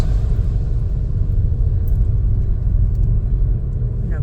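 A manual car's engine rumbles low and steady as it creeps forward in second gear toward red traffic lights, a continuous close drone with no gaps.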